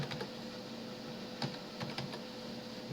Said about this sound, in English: We'll type in cannabis